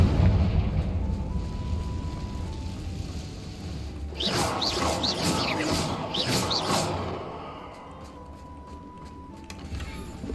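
The Confringo explosion spell in the Hogwarts Legacy video game goes off as a loud burst and fiery whoosh with crackling pops lasting a few seconds, set against steady game background sound.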